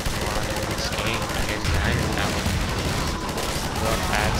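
Sustained machine-gun fire in the game Half-Life 2, a dense, continuous rattle of rapid shots with occasional heavier impacts, loud throughout with game effects layered in.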